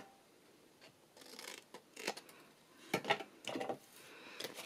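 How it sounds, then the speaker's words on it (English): Scissors snip and trim a paper treat holder in a few short, quiet cuts spread out with small pauses, close to the microphone and with no talking. "I'm just going to do a little bit of extra trimming now."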